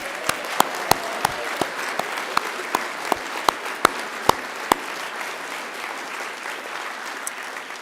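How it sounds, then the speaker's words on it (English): Graduates at a Macquarie University graduation ceremony clap for themselves, a sparse round of individual hand claps with sharp, distinct strikes that thin out toward the end. "turn to one another and give yourselves a resounding round of applause"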